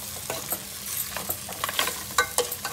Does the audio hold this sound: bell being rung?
no